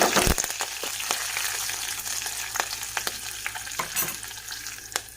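Mustard seeds, cumin, garlic, dried red chillies and curry leaves crackle and sizzle in hot oil for a Telugu rasam tempering, a loud steady fry with sharp pops, with no talk.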